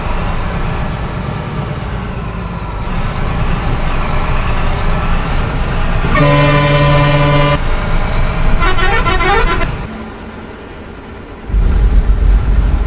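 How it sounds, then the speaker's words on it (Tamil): A Tamil Nadu private bus in Euro Truck Simulator 2 pulls away from a stop on the Mannargudi–Thanjavur route, with a steady engine rumble, a long loud horn blast, a brief second tone, then the engine easing and revving again. "வண்டி கிளம்புது பாருங்க."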